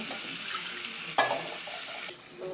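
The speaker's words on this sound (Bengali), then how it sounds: "পানি দিয়ে দিলাম, এখন একটু নাড়াচাড়া করে দিব" Pangas fish head being stirred in a pan after water has been added, with a wet sizzle and scraping stir, then a sharp clink of utensil against the pan midway, then the sizzle quietens.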